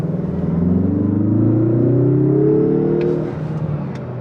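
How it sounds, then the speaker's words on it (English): A 2025 Mazda 3 Premium Plus hatchback with a 250-horsepower engine accelerates hard, its engine note climbing steadily in a smooth, loud rising drone heard from inside the cabin, easing off near the end. "Just phenomenal acceleration."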